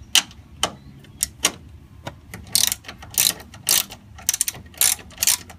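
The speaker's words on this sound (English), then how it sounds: "Once you have the thread cutting bolts in, all you're going to do is reverse them right back out." Ratchet backing thread-cutting bolts out of the hood lock holes on a 2010 Jeep JK, heard as close bursts of rapid ratcheting clicks separated by short pauses.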